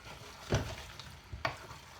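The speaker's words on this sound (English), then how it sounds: "We're going to give that a stir" Spicy rice and fish get stirred in a pot, with two distinct scraping clatters of the spoon against the pot over a faint sizzle, close and fairly quiet.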